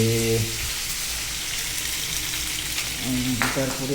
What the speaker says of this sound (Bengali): এখন মাছটা আমি ভালো করে ফ্রাই করতেছি